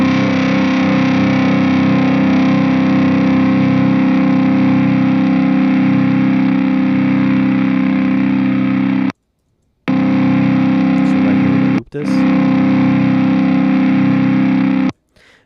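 A heavily distorted metal guitar chord run through the Bias FX amp simulator rings out loud and sustained, then cuts to silence twice, returning in between before it stops abruptly.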